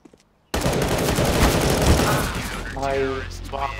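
Rapid bursts of gunfire from a Counter-Strike: Global Offensive match on the Inferno map, loud and dense after a brief quiet start, ringing on under a player's talk toward the end.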